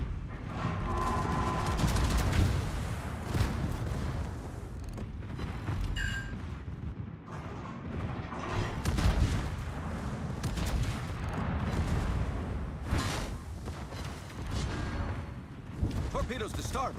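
Naval gunfire in World of Warships: repeated heavy booms and blasts from warship guns during a tournament battle, dense and continuous over rumbling engine and sea noise, with someone talking over it throughout.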